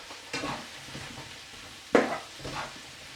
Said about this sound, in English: we're just going to make sure that the onions and the mushrooms are caramelized a little bit